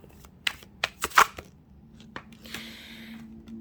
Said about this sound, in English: let's get one more card or one more shuffle from this deck